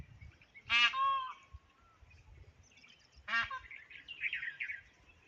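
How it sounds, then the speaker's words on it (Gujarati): Two loud peacock calls near a hill, each a harsh nasal wail, come about two and a half seconds apart. Softer chirping birds and light rustling fill the gaps, and nobody speaks. "હવે લગભગ મોર અવાજ કર્યો છે એટલે બધી મોરો આવશે."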